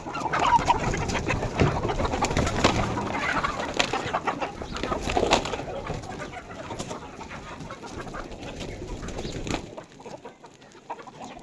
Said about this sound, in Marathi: कोंबड्याचं घर उघडू बघा कोंबड्या किती पटापट येते त्या